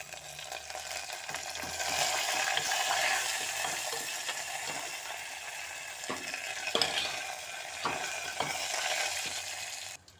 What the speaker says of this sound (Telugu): బాగా ఎర్రగా వేగాక కరివేపాకు వేసుకుందాం.